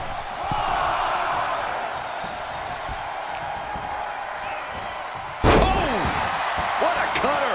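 A wrestler is hit with a cutter in the WWE 2K24 video game: a sharp, loud slam impact lands midway, with crowd noise throughout and a commentator talking over it.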